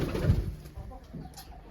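Pigeons held for sale give a soft, low coo near the start, then quieter rustling and faint murmurs, all close by and brief.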